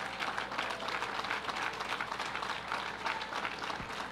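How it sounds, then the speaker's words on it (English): Audience applause for honorees at a Long Island wine and craft beverage event: a steady, even wash of many hands clapping, fairly soft and distant, continuing throughout. "Florence Fabricant, let's give them a round of applause"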